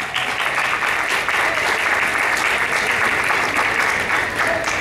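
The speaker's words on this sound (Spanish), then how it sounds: "yo pido un fuerte aplauso" Audience applause at a televised singing competition, a steady, dense roll of many hands clapping that stays loud and even for several seconds.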